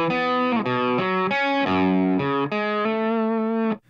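A chugging distorted electric guitar riff, tight muted notes shifting pitch in a choppy rhythm before stopping abruptly.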